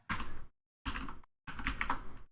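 Typing on a computer keyboard, heard as three close, clattering bursts of keystrokes separated by short silent pauses, no voices.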